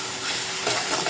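Garlic is stirred and fried in hot oil, giving a dense, even sizzle with scraping from the stirring, loud and close, no voices.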